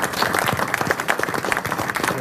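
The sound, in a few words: audience round of applause for Graham Lawler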